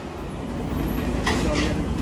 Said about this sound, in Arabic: المترو كيتمشى بوحدو ما كان فيه لا شفو لا حتى شي حد